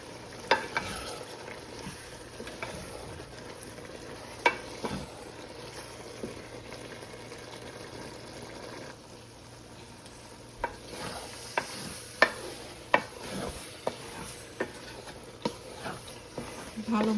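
Dal stir-frying for haleem in a covered pot, a faint steady sizzle under sharp scattered clicks and scrapes of a spoon against the pot, close but quiet.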